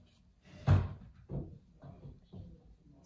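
Household cats getting rowdy in the background late at night, heard as a few irregular thumps and knocks, one sharp bang near the start followed by softer bumps, like cupboard doors or furniture being knocked.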